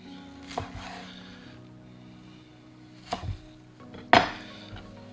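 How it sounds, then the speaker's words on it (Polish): A knife chops fresh dill finely on a board, three sharp separated strikes with quiet pauses between them, close and fairly loud. "I koperek kroimy naprawdę bardzo drobno"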